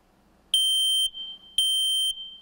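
A smoke alarm emits two loud, piercing half-second beeps about a second apart, close by, with quiet room noise between.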